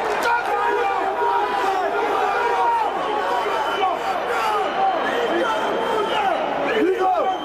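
A dense roar of PSG football supporters packs the stadium stands, many voices chanting and shouting together in a steady, loud wall of sound with no breaks.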